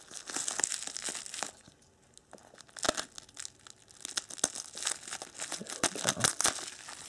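Tape pulled and peeled off Kershaw knife packaging, close crinkling and tearing bursts in irregular clusters, with a short quieter pause before the rustling picks up again.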